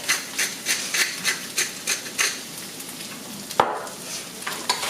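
A spoon stirs meat pie filling, seasoned with rosemary, Italian seasoning and pepper, in a sizzling frying pan, with a steady rhythm of close scraping strokes and a loud clack near the end.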